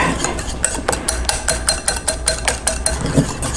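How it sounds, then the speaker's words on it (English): A whisk beats rapidly against a bowl, emulsifying canola oil and eggs into a whipped salad dressing, a steady fast clicking rhythm with close, loud metallic taps and no talk. "And I'll give it another whisk for just another"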